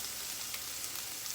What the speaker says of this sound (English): So while that's sizzling away,